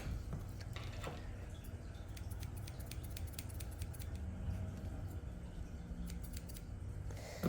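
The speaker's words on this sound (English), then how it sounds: "so I'm going to go and snip that out" Scissors snip a matted knot out of a Yorkie's fur during grooming, a quick series of close, crisp metallic cuts over a low steady background hum.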